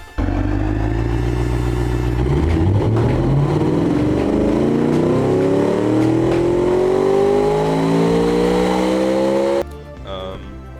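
A car engine built in a car-building video game, a British-style sports car making 596 horsepower, revs in a long, loud dyno pull, its pitch climbing steadily for about nine seconds before cutting off abruptly into a quiet idle.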